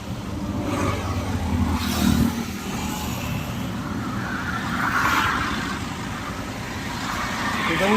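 A truck engine runs continuously nearby, a loud rumbling drone that swells slightly now and then; the truck has an AdBlue leak and is losing power.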